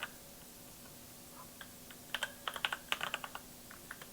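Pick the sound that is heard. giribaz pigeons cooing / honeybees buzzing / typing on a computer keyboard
typing on a computer keyboard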